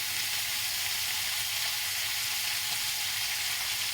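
Papdi sizzles steadily in hot oil as spices are stirred in, a dense, even frying hiss that holds at close range without pause.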